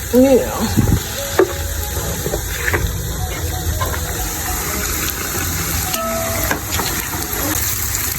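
Plantain added to a pot and stirred in a home kitchen, with steady sizzling and frying hiss, scraping stirs and a few clatters throughout.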